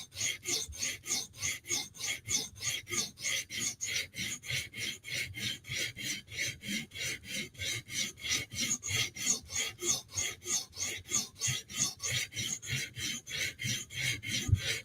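A blade edge being sharpened by hand, a steady run of rhythmic rasping strokes, roughly three per second, close and clear, with no voices.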